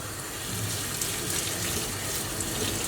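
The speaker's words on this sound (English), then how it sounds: "Now we immediately want to run cold water over it." Cold tap water runs steadily over drained cooked chickpeas in a kitchen sink, a constant close splashing hiss with no pauses and no voices.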